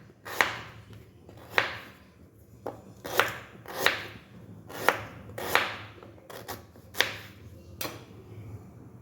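Peeled beetroot chopped into pieces on a cutting board, a knife striking down in a steady rhythm of about ten sharp, close thuds with no talk.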